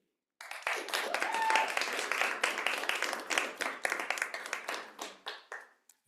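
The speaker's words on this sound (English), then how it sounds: "Occasional applause is okay" Applause from the audience at a 2024 political issues forum, a dense crackle of many hands that swells, then thins into scattered claps and fades over about six seconds.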